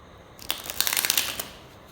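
Tarot cards are shuffled close by in one brisk, papery riffle lasting about a second, then quiet.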